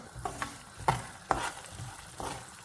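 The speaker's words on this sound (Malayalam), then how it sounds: "കടല നമുക്ക് നന്നായിട്ട് വറക്കാം." Peanuts rattle and scrape in hot oil as they are stirred, a few distinct clacks and soft sizzling over a low pan hum, no voices.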